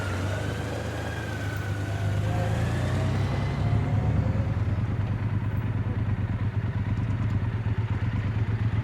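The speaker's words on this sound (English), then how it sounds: "This is a Triumph Thunderbird." Triumph Thunderbird motorcycle, a long-wheelbase cruiser, idling at low speed through slow left and right turns; a steady low engine throb, close and continuous, with a soft clatter and a slight shift in tone partway through.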